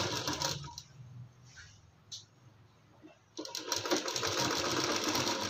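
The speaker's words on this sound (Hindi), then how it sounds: "इस तरीके से गोलाई में सिलाई सिलाएंगे।" Sewing machine stitching a sleeve around a lined kurti, running in rapid mechanical bursts with a quiet pause between them, close and fairly soft.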